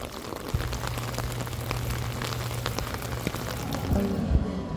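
Steady rain falls, producing a dense, continuous patter close by, with a low background hum and a few faint bumps near the end.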